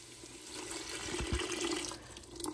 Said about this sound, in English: I filled the bottle that we had the creamer in, the half and half in with water